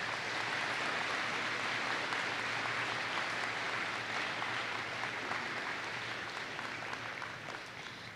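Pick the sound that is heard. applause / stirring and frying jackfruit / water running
applause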